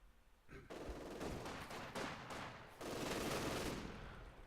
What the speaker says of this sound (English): there is an MG42 plus that LMG opening up on the Conscripts